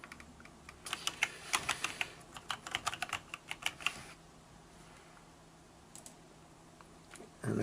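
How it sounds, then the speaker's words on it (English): Quick clattering keystrokes on a computer keyboard while entering an address, a close burst of rapid irregular taps for about four seconds, then quiet room hum with a faint click near the end. "I'm going to type in HTTP."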